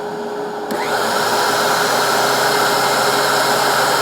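A DeWalt DW735 thickness planer fitted with a Shelix helical cutterhead starts up after a quiet moment and runs loud and steady, a dense whirring roar with a constant whine that holds to the end.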